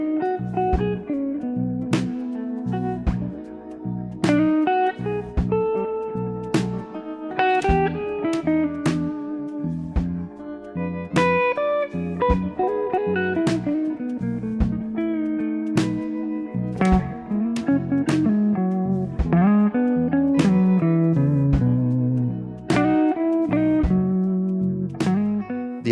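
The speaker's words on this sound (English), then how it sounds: "We're going to change our picking volume, and that just really means how hard you're playing with the right hand." Electric guitar plays a melodic line with picked notes that swing between soft and hard attacks, steady and prominent with no voices.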